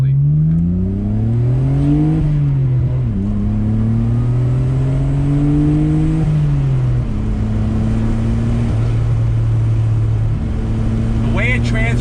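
A 1993 Nissan Skyline GT-R R32 V-Spec's engine hums low and steady, its pitch rising and dipping several times as the car slows and eases forward over speed humps.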